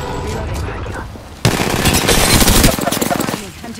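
Rapid automatic gunfire rattles in Apex Legends, a dense burst of shots starting abruptly after a quieter stretch and lasting about two seconds before tapering, with game voice chatter mixed in.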